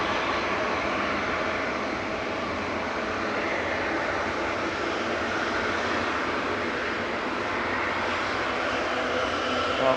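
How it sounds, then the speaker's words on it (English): A noisy propeller aircraft, a Gulf Air departure at Manchester Airport. Its engines make a loud, steady droning roar that stays fairly constant across the whole stretch, with no voices. "Gulf Air's going next, and we've got a noisy prop."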